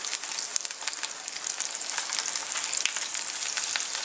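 Scotch fillet steak sizzles steadily in a hot pan over medium-high heat, a dense, even crackle with scattered sharper spits, close and continuous with no talking.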